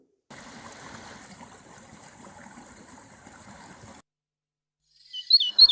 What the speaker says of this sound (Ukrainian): Вона дзвонить не тільки водою, але й пташиними голосами